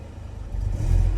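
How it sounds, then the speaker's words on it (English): A Mercedes 220CE W124 coupe engine idles with a low, rough rumble, then the throttle is blipped and the revs swell louder near the end, close and with no talk. "I want to blip the throttle"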